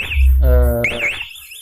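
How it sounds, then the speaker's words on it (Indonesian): A motorcycle security alarm from MP One Way blares when the ignition lock is forced, giving loud electronic siren tones that shift pitch and pattern within a second or so, close up and without talk. "Ini saya jebol kunci kontak nih, alarm langsung bunyi"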